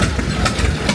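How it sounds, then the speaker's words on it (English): Tractor engines idle loudly at a state fair exhibit, a deep steady rumble with an uneven mechanical throb, close and continuous. "Got some of the tractors fired up so you can hear their song"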